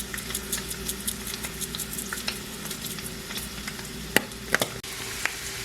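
Bacon sizzles and crackles in a frying pan, a close and steady hiss broken by scattered pops and a few sharper spits near the end, with no voices.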